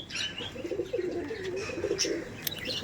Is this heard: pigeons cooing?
yes